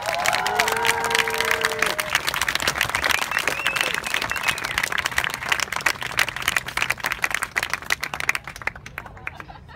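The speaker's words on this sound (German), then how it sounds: "Darf ich vielleicht mal der Form halber um Applaus bitten?" Applause from an outdoor crowd at a political party's large poster unveiling in Berlin, steady dense clapping at moderate distance with a few brief tonal sounds early on, tapering off at the end.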